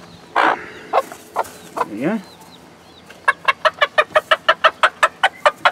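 A hen gives a steady, rapid run of short, soft clucks, close by, after someone briefly speaks and a few scattered chirps.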